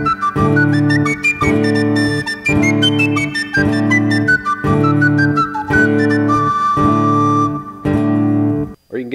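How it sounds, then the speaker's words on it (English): Tin whistle solo layered over a repeating looped backing through a BOSS RC-300 looper pedal, bright melodic lines over steady rhythmic pulses, loud and continuous before a brief drop near the end. "Or heck, why not even a tin whistle solo?"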